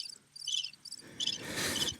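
Crickets chirp in rapid pulsing trills, played as a short sound effect, repeating in several bursts over a soft hiss that swells toward the end, with no voices.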